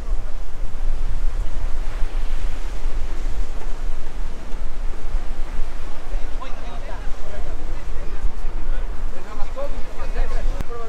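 Ocean waves break at a beach in Salvador, Bahia, Brazil, after dark, making a loud, continuous roar of surf with wind buffeting the microphone throughout.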